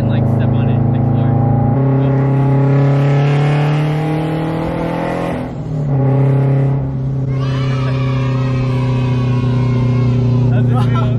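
A supercharged Scion FR-S accelerating hard, its engine a loud, close drone of layered tones that climb steadily, drop briefly at a gear change, then build again, with low voices inside the car.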